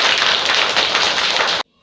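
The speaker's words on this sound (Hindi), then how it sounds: "ताली बजाओ।" Schoolchildren in a government school in Katihar, Bihar, clap their hands together in a dense, loud burst of applause that cuts off abruptly.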